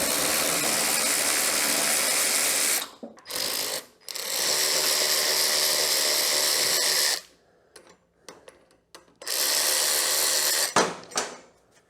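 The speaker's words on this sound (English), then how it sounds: "now we can go ahead and take our bolts out" Power tool whirring in long loud bursts while bolts come out of a bent rear axle, the runs broken by short pauses and clanks of metal.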